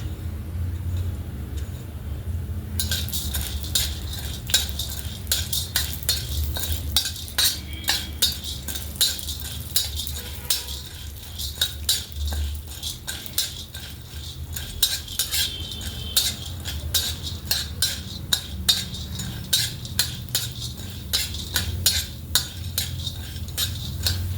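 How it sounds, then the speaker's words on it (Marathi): Split chickpeas roasting in oil for a spicy village-style chicken dish, stirred steadily with a metal spoon in a pan, giving a long run of close, rhythmic scraping and clinking over a low sizzle. "डिशमध्ये अजून थोडं तेल घालून घेतलं आहे आणि त्यात मी हरभऱ्याची डाळ भाजून घेणार आहे"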